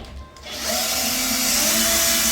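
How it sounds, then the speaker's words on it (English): A power drill backing out screws from a cabinet door hinge: after a quiet start, the motor spins up and holds a steady, close whine that grows slightly louder as it runs. "So quick way of using the drill is you want to start off slow"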